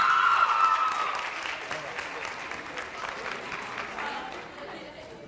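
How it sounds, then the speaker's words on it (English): Audience applause at a school literacy competition for sixth-grade poetry recitation students, a steady crowd clapping that fades gradually, moderately loud and slightly distant. "join us in an applause for our 6th grade poetry recitation students"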